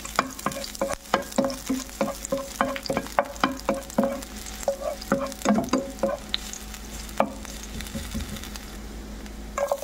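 Aromatics sizzle in hot cooking oil while being stirred, with scattered scraping and clacking of a utensil in the pan over a soft frying hiss, no voices.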